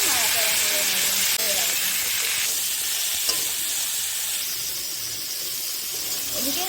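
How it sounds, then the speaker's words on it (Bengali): Beetroot and kohlrabi pieces being stirred and fried in a pan, giving a steady sizzle with scraping stirs, loud and close throughout. "ভালো করে নাড়াচাড়া করে নেব।"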